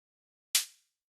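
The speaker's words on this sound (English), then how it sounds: "this is essentially just white noise" A single short burst of bright synthesized white noise, sharp attack then quick hissy decay, standing alone like a synthetic hi-hat hit in a drum and bass track.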